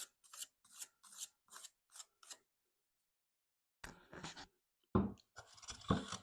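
A pencil scratching marks onto a wooden board on a workbench, in a run of short rasping strokes, then a pause, then a louder, denser burst of scraping and rubbing close by with no talk.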